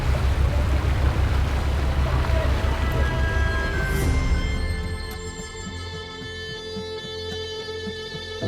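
A boat's engine rumbles and water washes alongside as the vessel sets off onto the ocean at Tubbataha after sunset, towing a small boat behind, with people talking over the motor.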